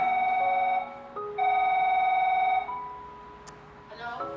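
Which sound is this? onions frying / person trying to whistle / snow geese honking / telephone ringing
telephone ringing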